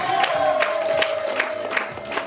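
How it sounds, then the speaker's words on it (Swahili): Worshippers at a church healing service clap for Jesus in a steady rhythmic beat, roughly two or three claps per second, over a held organ-like tone and soft crowd murmur. "Pigie Yesu makofi"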